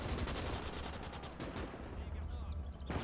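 MG42 machine gun fired from the hip in the WWII game Gates of Hell on the Eastern Front, a rapid unbroken ripping burst that runs loud and dense through the whole moment, with a voice speaking under it.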